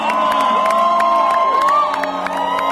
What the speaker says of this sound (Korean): 우리 함성을 질러 주님께 영광을 돌립시다